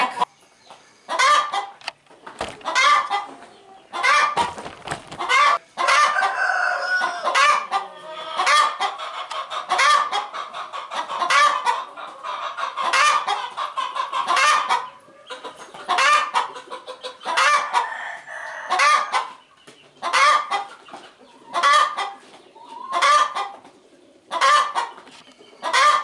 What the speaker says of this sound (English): these chickens took possession of this. They think it's their coop.